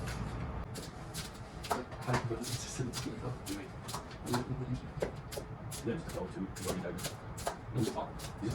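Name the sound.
knife chopping lettuce for tacos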